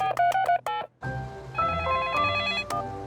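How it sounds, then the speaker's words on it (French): Cartoon telephone dialing to reach emergency services: a quick run of bright beeping keypad tones, a brief pause, then a warbling ringing tone that continues to the end, no talking. "il faut appeler les services de secours"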